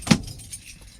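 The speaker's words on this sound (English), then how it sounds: "Keys." Keys jangle briefly and close up as a heavy-haul truck driver gathers wallet and keys before climbing into the cab, one short metallic rattle followed by quiet.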